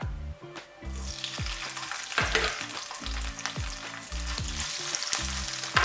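Steady loud sizzling of gizzards frying in oil in a pan, continuous crackle throughout, with a rhythmic music track playing underneath.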